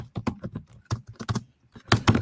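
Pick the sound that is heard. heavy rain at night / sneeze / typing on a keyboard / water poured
typing on a keyboard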